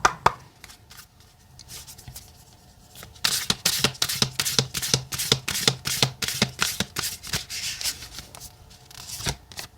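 Oracle cards for a tarot reading are shuffled by hand close by, a run of crisp, rapid riffling slaps and rubs in uneven bursts with no talking.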